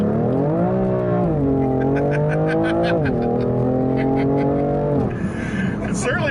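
A 2018 BMW M3 with the S55 engine accelerates through the gears, loud rising engine tones with shift drops at about one, three and five seconds, heard from inside the car with people talking.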